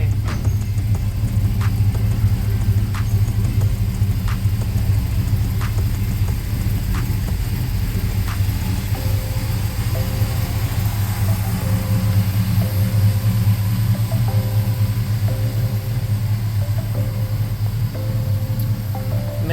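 A Chevrolet C10 pickup with an LS engine swap idles roughly and steadily with a deep bass rumble, close and continuous, with faint clicks over the running engine.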